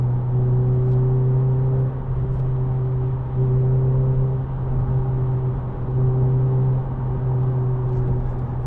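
A 2010 Renault Clio Renaultsport 2.0 engine holds a steady, high-revving drone around 4,000 rpm with a cyclic rise and fall, heard from close inside the car with no talking.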